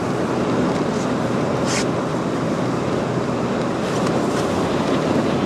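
Strong, relentless wind on an Arctic Ocean expedition in subzero cold, a dense continuous roar of buffeting at constant loudness with occasional brief hissing gusts, no voices.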